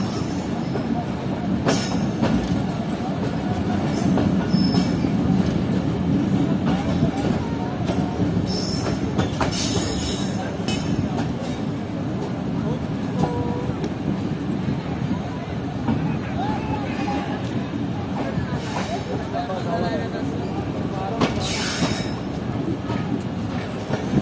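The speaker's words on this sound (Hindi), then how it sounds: "हमारी ट्रेन इस वक्त अप्रोच कर रही है डेरा अला यार रेलवे स्टेशन पर" The Jaffer Express passenger train of Pakistan Railways approaches Dera Allah Yar station, with continuous rumbling carriages, rhythmic wheel clatter and occasional sharp squeals and bangs heard from inside the train, and voices talking underneath.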